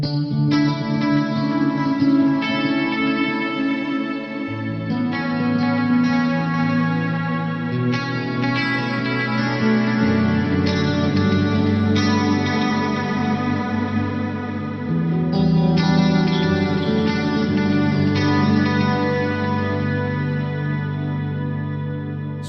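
Guitar played through an '80s-style effects rig with a long reverb and shimmer delay, sustained chords ringing out and blooming into a wide wash of echo, steady and fairly loud throughout with no talking.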